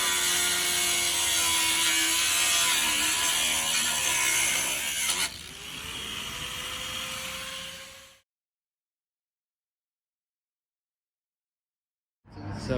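A ratchet works at a stuck bolt on a Ford F-150, giving a loud, continuous clicking and grinding mechanical noise for several seconds before cutting off into silence.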